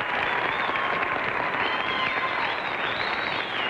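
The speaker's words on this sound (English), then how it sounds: "So let's give Bern a hand, shall we?" A studio audience at a 1952 TV game show gives steady, full applause, with dense clapping continuing evenly throughout.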